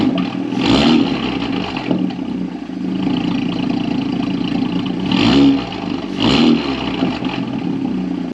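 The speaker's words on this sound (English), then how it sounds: "I'm gonna go ahead and do a few baby revs," A 2019 Audi S4 (B9) engine with an AWE Touring exhaust idles close by, with three short revs that rise and fall.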